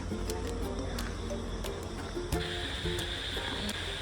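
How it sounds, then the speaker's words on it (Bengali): Crickets chirp steadily at night in a dense, continuous drone after rain, with faint sharp ticks scattered through and no voices. "ব্যাঙ আর ঝিঝি পোকা"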